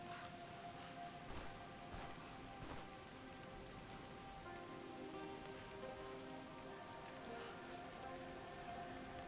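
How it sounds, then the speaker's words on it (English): Steady rain in the video game Stoneshard, an even, dense patter of drops on surfaces holding at a constant level throughout with no talk. "Is that the rain?"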